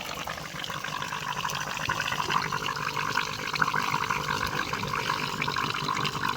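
Water being drawn in by the pump of a dryer with a rotary compressor under disassembly, a steady gurgling, rushing flow heard close and continuous without a break.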